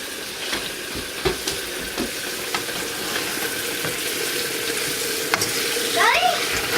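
Wild rice, garlic chicken and shiitake mushrooms sizzle softly in a pan while a utensil taps and scrapes at intervals, with faint background household noise and a brief high squeak near the end.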